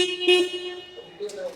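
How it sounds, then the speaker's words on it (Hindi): A Harley-Davidson X440 motorcycle horn gives a steady, fairly thin tone held through most of the moment, close and moderately loud, with a slight pitch shift toward the end. "एक बार हॉर्न तो चला के देख ही लेना चाहिए आई थिंक"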